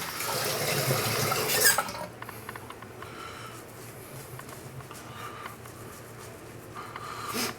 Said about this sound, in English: Now let's get some more water in this.